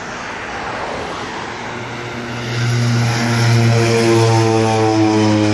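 A Winair Twin Otter propeller plane at Canefield Airport drones loudly nearby, its steady engine hum rising in pitch and volume as it revs up, with no voices over it.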